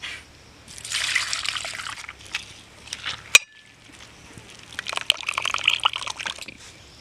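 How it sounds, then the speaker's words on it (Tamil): Dissolved palm fruit pulp poured through a strainer, a close trickling, splashing stream in two bursts separated by a short quiet gap with a sharp click. "அதை எடுத்து நல்லா அந்த வடிகட்டில் ஊற்றி நல்லா வடிகட்டிக்கோங்க"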